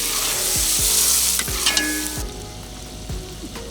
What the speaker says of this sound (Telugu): మళ్ళా టమాటా ముక్కలు వేసుకొని ఒక 15 నిమిషాలు వేగనిద్దాం